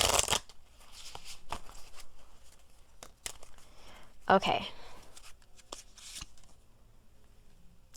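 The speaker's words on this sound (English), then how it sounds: "Let's shuffle it up a little bit." A deck of cards is shuffled in a few quick, crisp riffling bursts close by, separated by pauses, with a person speaking briefly between them.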